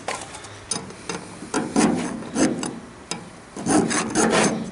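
A metal file scrapes a hardened rollback clutch part in repeated strokes, rough rasping bursts of roughly half a second each, close and fairly loud with short pauses between.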